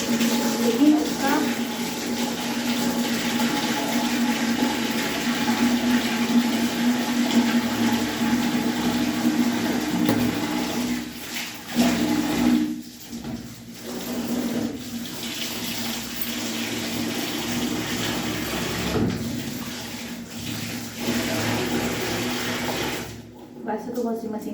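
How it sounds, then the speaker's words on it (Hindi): Water runs steadily from a tap in a bathroom while clothes are washed by hand, with a continuous splashing rush that briefly falters a few times and a voice faintly in the background. "मैं यहाँ पर थोड़े से कपड़े धुलूँगी"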